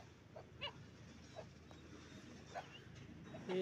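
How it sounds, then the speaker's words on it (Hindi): Small dogs yip and bark faintly now and then outdoors during a morning walk, a few short scattered barks set well back against a steady hiss of background noise. "कुत्ते भौंक रहे छोटे छोटे से"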